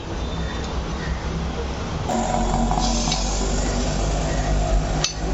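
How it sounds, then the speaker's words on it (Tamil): Food is sautéed in a pan over a high flame while mutton is being prepared. A continuous sizzle and rumble runs throughout, with light stirring scrapes and a couple of brief clinks. "நல்லா இது கொஞ்சம் நல்லா ஹை ஃப்ளேமில் வச்சு நல்லா வதக்கிக்கலாம்"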